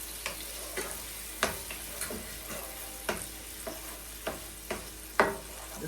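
Raw vegetables and seasoning sauté in a pan with a soft, quiet sizzle, punctuated by regular scraping strokes of a spoon roughly every half second, close by and without speech.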